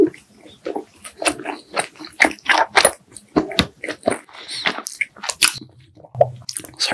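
Fried hwajeon rice cakes are bitten and chewed up close, with loud, repeated crunchy bites and sticky, squishy chewing in an irregular rhythm and no speech.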